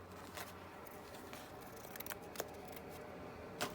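Scissors snip through lace trimmed for a small journal pocket, a few quiet, sharp cuts spaced irregularly over a low steady room background.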